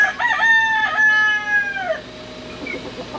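A rooster crows nearby, one loud drawn-out cock-a-doodle-doo that fades into quieter background rustling.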